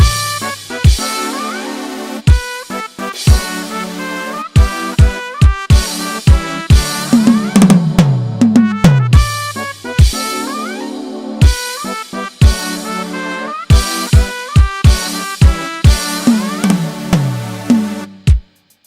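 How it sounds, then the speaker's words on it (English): Brass section from a worship song arrangement, playing punchy staccato chord stabs in a regular rhythm over a drum beat, loud and upfront throughout. "if we play the brass with the drums"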